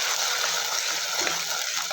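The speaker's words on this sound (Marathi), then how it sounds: "आता आपण त्याच्यामध्ये टोमॅटो प्युरी घालून घेऊया।" Tomato puree goes into onion and garlic browning in a pan, giving a loud, continuous hissing sizzle that stays close and steady over the short moment, with no voices.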